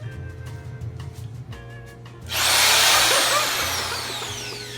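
A few faint clicks, then a large power drill starts and bores loudly into wood while making a flute, a harsh whining grind that holds steady close by.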